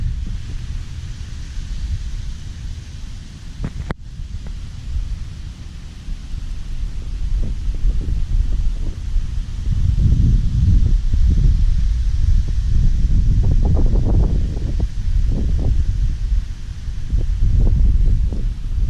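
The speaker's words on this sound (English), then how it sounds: "The wind is almost refreshing." Outdoor wind buffets the microphone near beach plum shrubs, a low, uneven rumble that swells and gusts louder in the second half, with no voices.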